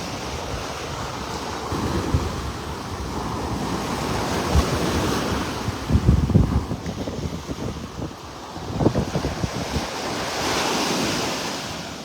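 Ocean waves and surf rolling in at a beach in North Naples, Florida, a steady wash of breaking swells with louder surges every few seconds, mixed with wind buffeting the microphone.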